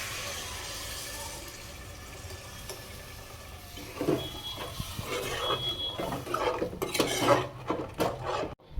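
Onions and tamarind juice stirred in a pan for an egg and dried prawn curry, a steady soft background wash giving way to clinking utensil scrapes and liquid sloshing in the second half, with no voices.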